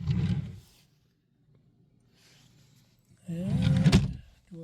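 A drawer in a 1999 Country Coach motorhome slides open and shut in two rumbling bursts, a short one at the start and a longer one after a pause, close by and fairly loud.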